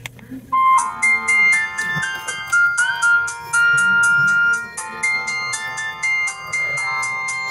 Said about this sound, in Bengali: ফোনটির যে রিংটোনের সাউন্ড বরাবরের মতো, কিন্তু এটাও একটু চেক করব যে ফোনটির সাউন্ডের দক্ষতা কেমন ছিল